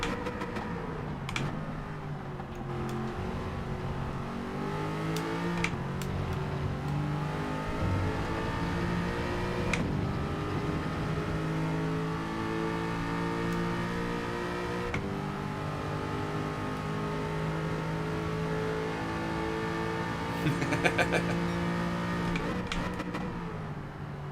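Group 4 race car engine at Interlagos in Gran Turismo 7, revving up and down through gears in long sweeping pitch climbs and drops, steady and moderately loud throughout.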